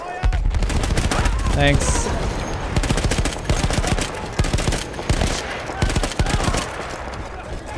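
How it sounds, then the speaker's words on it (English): Dense bursts of machine gun fire and other gunfire rattle almost continuously in Battlefield 1, loud and close, with someone speaking briefly over the shooting. "Run in the machine gun."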